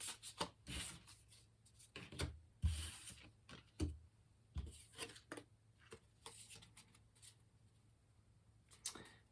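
Quick papery riffles and soft slaps of tarot cards being shuffled, arriving in irregular bursts with brief pauses, close and moderately quiet.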